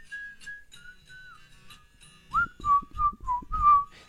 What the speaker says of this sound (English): I'll just be whistling this